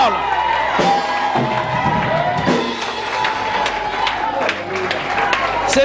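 A church congregation cheers and acclaims during a French-language sermon, a dense crowd roar with whoops and shouts rising and falling continuously under and around the preacher's voice.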